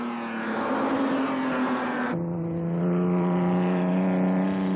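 Pre-war ERA racing cars at the Donington circuit, a loud steady engine drone that shifts pitch abruptly partway through as one car passes slower traffic, with no voices.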